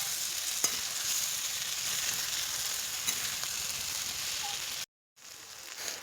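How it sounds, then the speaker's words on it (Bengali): Potato and soybean frying in a spice masala, a faint steady sizzle with a few light stirring taps, broken by a brief silent gap near the end. "মশলাটাকে আমি দিয়ে নিচ্ছি আলু আর সয়াবিনটা, যেটা আগে থেকে ভাজা ছিল।"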